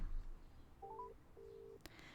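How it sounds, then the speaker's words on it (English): A short burst of phone-dialing tones from the visual novel game Heart Cage, two steady tones with a few rising beeps over them, then a brief click, clear against quiet background hum. "Dialing on the phone."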